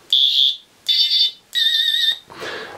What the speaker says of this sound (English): It's quite a bit louder out of the actual sonic screwdriver. Three cycling sounds